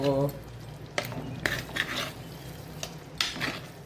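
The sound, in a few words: flipping egg pepper fry in a pan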